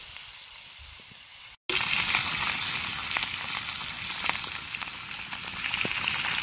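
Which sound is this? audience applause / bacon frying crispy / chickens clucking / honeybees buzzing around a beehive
bacon frying crispy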